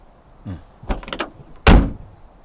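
A car door is shut with one solid, loud thud, preceded by fainter handle and latch clicks and rattles, close by with no talk.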